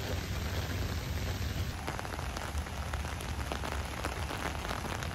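Steady rain falls outdoors on a city street beside building walls, a dense, continuous hiss of drops spattering hard surfaces, fairly loud and unbroken, with no voices.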